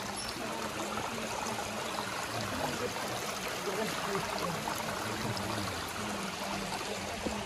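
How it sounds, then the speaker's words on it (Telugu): A forest stream in the Nallamala hills near Srisailam runs in a steady, continuous rushing wash of water, fairly faint and even throughout, with no clear talk over it. "ఈ నీరు ఇట్లా వెళ్ళి అట్లాంటి ఊటలు కలిసి ఎన్ని నీళ్ళు అవుతాయి చూడండి"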